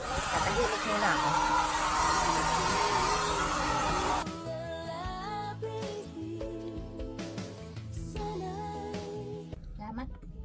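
Hair dryer blowing in a cruise ship cabin, a steady loud airy roar for several seconds that then drops lower and continues under music-like tones.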